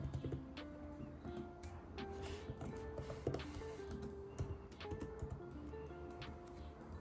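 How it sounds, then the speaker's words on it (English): Typing on a MacBook keyboard during a software engineer's coding session, heard as a steady run of soft, quick key clicks at close range beneath a continuous low background hum, with no voices. "the MacBook keyboard is much noisier on video than it is in real life?"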